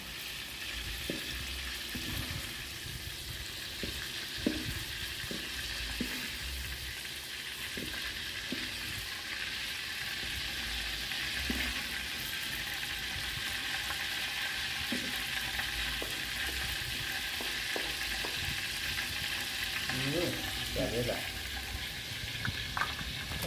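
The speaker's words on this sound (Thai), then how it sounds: "เนี่ยทอดครับ" Sago palm weevil larvae fry in hot oil with kaffir lime leaves, giving a steady, loud sizzle with light stirring clinks throughout, close up, with no talking.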